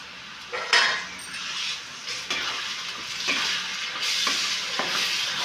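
Tomato paste fries in a pan for egg biriyani, a steady close sizzle broken by repeated scraping stirs and metallic utensil knocks against the pan, growing busier toward the end.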